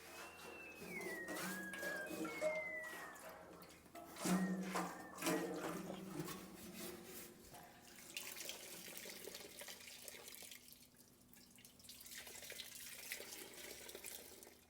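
Fuel draining from the tank of a Case 430 tractor, a steady, close trickle and splash of liquid running continuously, with brief handling clatter partway through.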